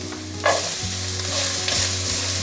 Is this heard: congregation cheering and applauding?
no